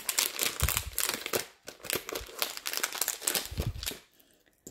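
A plastic AliExpress packet being torn open by hand, close and loud irregular crinkling and rustling bursts for several seconds, ending with a quieter pause.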